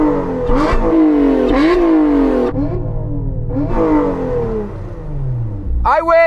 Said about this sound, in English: Let's have a listen to your supercharged V6.